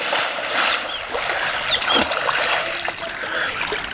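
Water splashing and trickling as a man wades into the water at Tarbela Dam near Topi, District Swabi, a steady close wash with brief splashes outdoors.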